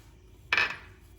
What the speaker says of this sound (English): So here we are gonna put some oil in our pan